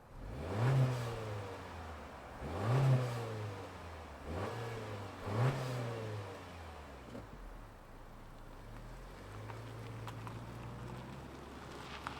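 A 2024 Honda Civic Touring engine revs up in four rising pulls at moderate distance, each climbing and falling away, then settles into a steadier drone as the car moves off.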